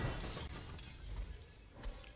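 Crystalline shattering effect from a Smite god skin in a video game, a bright burst of breaking glassy shards with a couple of sharper cracks later, fairly quiet and alone.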